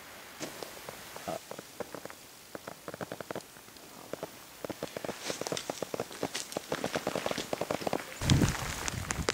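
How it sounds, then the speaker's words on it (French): Rain patters on a mountain hiking trail near Masevaux. Dense irregular drops and taps build in intensity over about nine seconds, with a louder rustle near the end. "il va falloir faire vite parce que la pluie s'en est mêlée"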